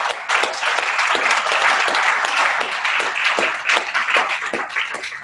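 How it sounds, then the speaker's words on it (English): Audience applause for the presenters at the end of a business member briefing session, a steady burst of many hands clapping at close range for about five seconds, alone without speech. "Can we have a round of applause for the Lexicon team?"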